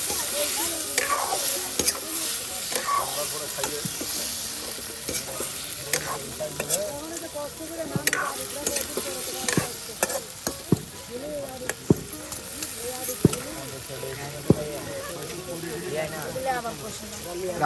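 Spiced meat and potato pieces sizzle and are stirred in a pan during outdoor village cooking, with steady frying hiss and scraping spoon strokes while people talk nearby.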